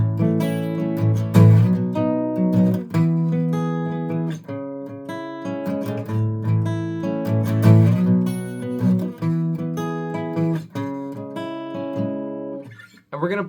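Acoustic guitar picking out the individual notes of the chorus chords, a steady rhythmic run of plucked notes through the changes, close and clear, played alone with no singing or talk.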